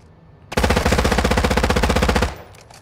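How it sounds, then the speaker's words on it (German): Enemy automatic gunfire in Warzone 2.0 DMZ, a single close, loud burst of rapid, evenly spaced shots lasting nearly two seconds before cutting off abruptly. "Feindbeschuss!"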